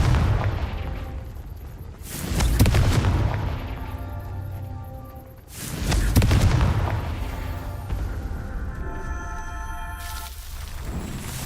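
Blasts of the Confringo explosion spell in the Hogwarts Legacy video game, two loud booming bursts about four seconds apart, each followed by a long rumbling, ringing tail, with no talk.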